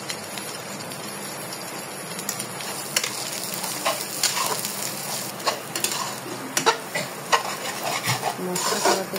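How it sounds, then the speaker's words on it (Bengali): Spices with salt and turmeric fry in a pan, giving a continuous close sizzle broken by irregular scraping and clinking strokes of a utensil stirring the mixture. "এবার দিব লবণ এবং হলুদ দিয়ে সুন্দরভাবে কষিয়ে নেব।"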